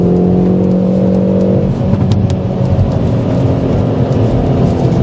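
A 2020 Hyundai i30 Fastback N with a turbocharged engine accelerates hard, its loud, close engine note rising in a steady surge with turbo whoosh over the whole stretch.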